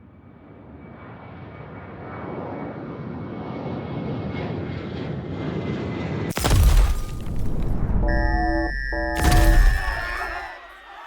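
Airplane engine droning steadily and swelling louder in a sci-fi horror story, then broken by two heavy booming crashes with rumbling impacts and electronic tones between them.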